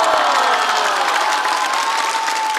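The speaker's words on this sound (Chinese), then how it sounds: "再次掌声送给唐国强老师。" A studio audience applauds and cheers for actor Tang Guoqiang on a Chinese variety roast show. The dense, loud clapping and crowd noise run without a break for the whole stretch.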